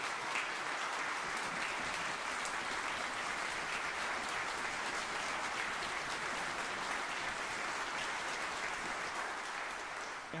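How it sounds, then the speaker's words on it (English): A church audience gives sustained, dense applause for the musicians after a Special Music Sunday performance of Handel's Dixit Dominus, a steady wash of clapping with no gaps. "Can we have another round of applause for our players?"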